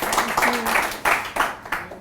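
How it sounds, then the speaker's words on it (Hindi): A studio audience claps for guest Piya Malik on a comedy talk show, with several loud bursts of hand claps rising and fading in uneven waves, and a voice briefly audible beneath. "एक बार पिया मलिक के लिए जोरदार तालियां हो जाए।"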